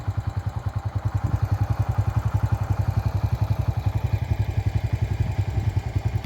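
A motorcycle idles loudly and steadily beside farm fields in a village, its engine pulsing in a quick, even rhythm from start to finish with no talking.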